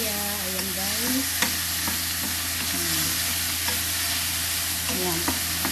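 Bitter melon (ampalaya) and tomatoes sauté in a pan, a steady close sizzle with occasional stirring scrapes and clinks, while faint voice-like tones drift underneath.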